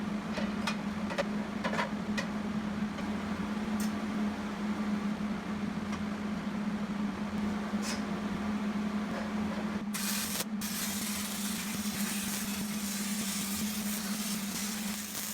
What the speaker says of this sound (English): and weld them together